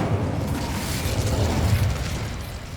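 An Incendio fire spell is cast in the Hogwarts Legacy video game, a loud, dense roaring whoosh with crackling bursts that holds steadily before fading slightly at the end.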